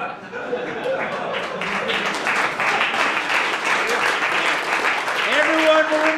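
A live comedy sketch-show audience applauds after a song, with a steady wash of clapping that continues throughout while voices speak over it.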